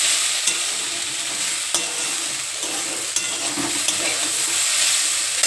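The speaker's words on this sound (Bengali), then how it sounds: "আজকে আলু ভাজবো, এই যে আলু ভাজি" Potatoes frying in a pan, a steady bright hiss of sizzling oil with occasional scrapes and taps of stirring, close and continuous, with no voices.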